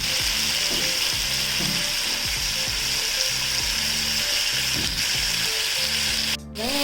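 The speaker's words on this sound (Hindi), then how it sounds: "ये चिकन फ्राई हो रहा है" Chicken sizzles loudly and steadily in a frying pan, a dense hiss with soft scraping and stirring knocks underneath and a brief sharper scrape near the end, all close up with no voices.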